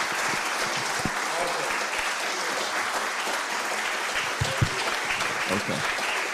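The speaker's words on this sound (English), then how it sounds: "can we clap our hands and applaud Dr. Johnson?" Audience applause at a Juneteenth talk on freedom and democracy, a steady wash of clapping filling the room at moderate volume with a few sharper claps standing out near the end.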